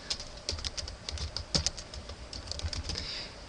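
Keys tapped on a computer keyboard while a password is entered twice, a quick irregular run of close, light clicks throughout with no voices.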